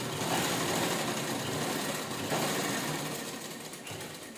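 A sewing machine stitching a small fabric shopping bag runs in a continuous close mechanical whir with a rapid needle rhythm, steady and loud throughout with no talking.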